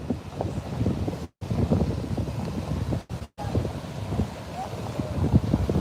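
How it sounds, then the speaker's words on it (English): Wind and surf roar continuously on a beach at Beach Haven at summer's end, a thick rumbling wash with gusty microphone buffeting and two brief dropouts, no speech over it. "here we are on the beach."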